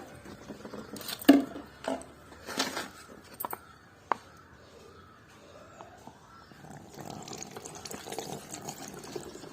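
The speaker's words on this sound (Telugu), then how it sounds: "ఇలా 1 లీటర్ నీళ్ళు అయితే తీసుకుంటున్నానండి" About a litre of water is poured into a bottle in a garden, with uneven splashes, gurgles and a few sharp knocks that come and go before a softer, steadier trickle.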